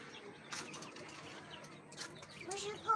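Pigeons shuffle and flap their wings inside a coop during hot weather, soft fluttering bursts and faint coos rising over a steady low background rumble.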